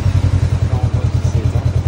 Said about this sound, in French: tu mets la moto en marche.